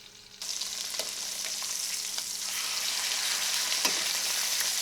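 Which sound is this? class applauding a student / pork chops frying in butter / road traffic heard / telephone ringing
pork chops frying in butter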